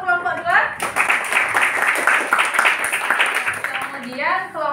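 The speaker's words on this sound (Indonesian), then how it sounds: "Tepuk tangan untuk kelompok 2." A classroom of students claps for a presenting group in a sustained burst of dense, close applause lasting several seconds, with a voice speaking briefly before it begins and again as it fades.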